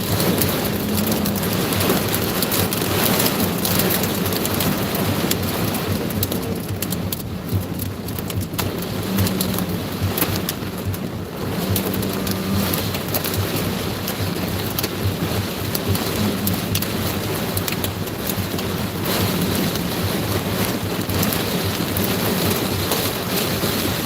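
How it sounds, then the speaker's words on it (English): Hail and heavy rain batter windows during an intense Kentucky thunderstorm, a dense, steady drumming wash that lasts throughout, with faint rumbles of thunder underneath and no talking. "You can hear the hail hitting the windows."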